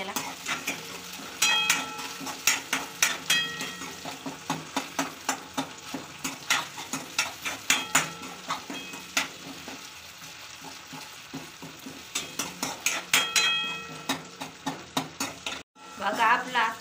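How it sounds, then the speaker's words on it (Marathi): Tomatoes cooking in hot oil in a pan with onions, a steady sizzle under frequent sharp scrapes and clinks of a spoon stirring against the metal, close and moderately quiet. "टोमॅटोला गलवेपर्यंत शिजून घेऊ याला"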